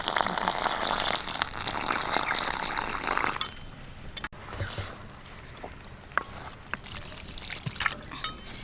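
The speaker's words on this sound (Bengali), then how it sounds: "এবার আমি জল দিয়ে মাখবো" Water is poured over flour in a bowl and worked in by hand to knead egg roll dough, a close splashing gush for a few seconds followed by quieter wet squelches and taps.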